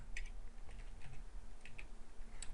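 Keys clatter on a computer keyboard in irregular, scattered taps over a steady low hum, fairly faint and close, with no voices.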